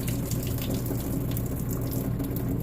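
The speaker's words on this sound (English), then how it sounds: "You want that crack to keep the noodles inside and yet drain out all the water." Water pours and drains steadily from a pot of noodles through the gap of a cracked pan lid, a continuous close gushing splash that holds at an even level with no talking.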